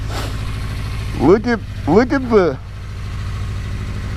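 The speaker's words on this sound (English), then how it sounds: "Oh, look, it sounds like a real bike. I know, this is a toy." A toy Yamaha motorbike engine idles with a steady low drone, then gives two quick revving bursts that rise and fall sharply, close by, with voices speaking.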